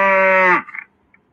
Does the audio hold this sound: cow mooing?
yes